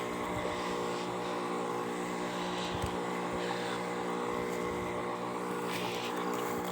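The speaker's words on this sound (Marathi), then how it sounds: "आपला बॅटरीवरचा पंप आहे" A battery-powered sprayer pump, used for spraying a chickpea crop, runs with a steady, droning motor hum at a constant pitch throughout, close and unbroken, with faint rustling in the background.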